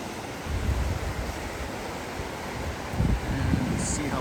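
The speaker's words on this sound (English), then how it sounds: "Hello, South Santiam River." A steady, broad rush of flowing water from the South Santiam River carries through the whole moment, loud and close, with faint wind noise and a brief murmur of voice partway through.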